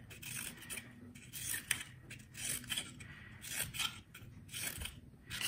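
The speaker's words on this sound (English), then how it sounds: "I'm going to take my scissors and go snip, snip, snip all the way around the edges." Scissors snip repeatedly around the edges of a recycled paper flower, a steady run of close, crisp cuts with slight scraping rubs between them.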